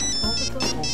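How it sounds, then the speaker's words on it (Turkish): A phone ringtone plays a short, bright melodic tone that repeats twice in under a second, with voices faintly mixed in. "Bir telefon arıyor."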